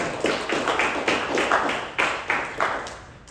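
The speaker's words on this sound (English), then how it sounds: "I told you guys to stop clapping." Clapping from a small audience at a club planning and election meeting, distinct individual claps in an uneven rhythm, about eight sharp hits close by, each decaying quickly, moderately quiet and with no talk.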